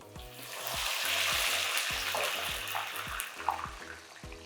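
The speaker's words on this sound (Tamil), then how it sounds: "இந்த ஸ்டேஜில் நம்ம வெட்டி வச்சுருக்கிற வெண்டைக்காயை நம்ம போட்டு நம்ம பிளான்ச் பண்ணிடலாம்" Cut okra (ladies' finger) dropped into hot oil to blanch, a loud continuous sizzle and crackle with bubbling oil and occasional pops, close and steady with no talking.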